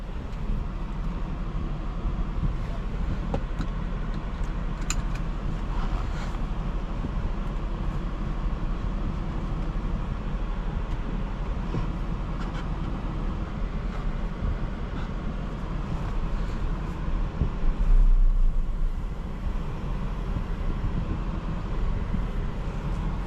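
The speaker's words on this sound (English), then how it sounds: "let's see what this car drives like now" Steady cabin road noise and low engine rumble from a 2025 Audi A5 Premium driving smoothly at low speed, continuous and even with faint ticks.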